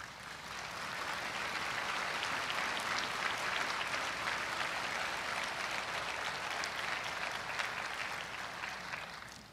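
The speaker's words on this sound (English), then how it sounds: "Please give them a round of applause." Mourners at a police officer's memorial service give a sustained round of applause, an even, dense patter of clapping from a sizable crowd that holds steady and tapers slightly at the end.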